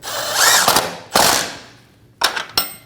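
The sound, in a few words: ratchet wrench tightening Volkswagen Passat rear control arm bolt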